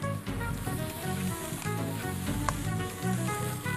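Vegetables hitting a hot pan for vegetable noodles give a steady close sizzle under a tonal, music-like background throughout this short stretch.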